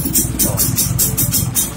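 A Vespa scooter engine idles just after being started, a close, rhythmic putter with regular pulsing beats over a short stretch.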